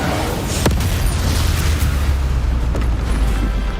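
Spell explosions go off during combat in the video game Hogwarts Legacy: a loud, dense rumble of booms and bursts with a couple of sharper cracks, continuous throughout and with no talking.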